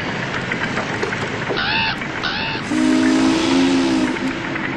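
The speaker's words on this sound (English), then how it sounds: "Like the trumpet of judgment blew the steam whistle of the electric light works." A steam whistle at an electric light works in Homestead, Pennsylvania, in 1892 sounds a sustained, loud blast amid a noisy, rumbling background, following a few shorter tonal bursts.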